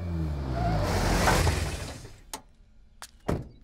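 A car driven fast, its engine roaring and whooshing past before fading, followed by a few sharp knocks and thuds.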